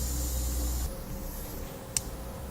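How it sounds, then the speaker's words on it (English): Compressed air hisses steadily while a Firestone Coil-Rite air helper spring on a 2008 Chevrolet is inflated, the flow stopping partway through and followed by one brief sharp puff, close and fairly loud with no talking. "Now go ahead and begin inflating at about 5-pound increments"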